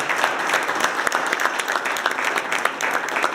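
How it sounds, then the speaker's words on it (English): An indoor audience claps steadily in dense, sustained applause, a moderately loud wash of many hands with no clear voices above it. "Give her a big round of applause for being here tonight."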